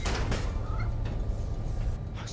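A cat meows in Spider-Man: Miles Morales on PS5, a few short, faint cries over a low, steady background rumble.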